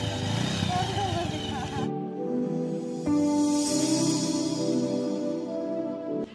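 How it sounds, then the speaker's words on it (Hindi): A Bajaj Avenger motorcycle engine runs steadily and fairly loud, with a brief idle dip before the tone rises and holds; a voice talks over the opening seconds. "तो बाइक ये रही और अभी हस्बैंड इसको घुमा रहे हैं"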